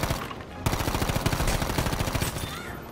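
An artillery barrage in a video game rumbles as rapid, dense blasts pound in a steady stream, loud and close for the whole stretch.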